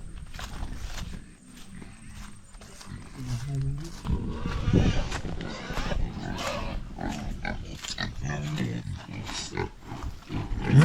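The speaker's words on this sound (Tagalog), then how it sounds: "Yung ating mga baboy, Rambo." Pigs on a ranch grunt and squeal while being fed, a busy mix of close animal noises and scuffling that runs throughout under steady talk from people nearby.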